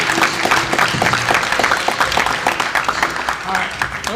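Applause for teams at a business program event, a crowd clapping steadily throughout with some voices mixed in beneath the claps.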